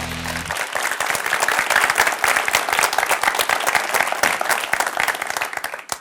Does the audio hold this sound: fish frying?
no